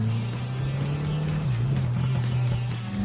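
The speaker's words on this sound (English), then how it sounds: "Sounds insane for a minivan." Turbocharged, fuel-injected hot rod minivan engine with a five-speed, running at a steady, loud drone that holds one pitch and then dips slightly partway through, with faint clicks and rattles over it and no talking.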